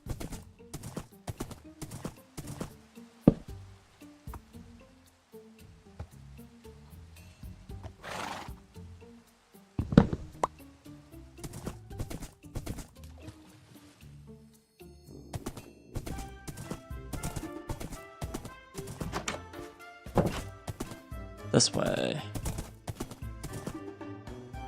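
Horse hooves clip-clopping in Minecraft, a run of crisp, uneven hoofbeats with pauses, a couple of sharp louder hits and a neigh near the end, while someone speaks briefly.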